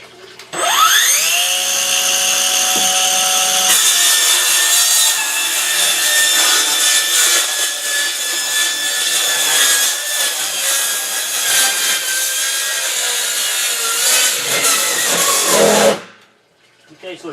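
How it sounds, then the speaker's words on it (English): A power saw cuts steadily through a metal barrel for about fifteen seconds, loud and close, its whine holding a harsh grinding pitch before stopping abruptly as the blade pinches. "let's have some fun cutting this barrel open."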